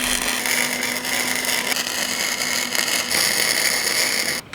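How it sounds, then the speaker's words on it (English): MIG welding a vertical post onto a welding cart made from an old bed frame, a continuous, loud crackling buzz of the arc that holds steady for several seconds before stopping abruptly. "I'm going to throw a little weld on it"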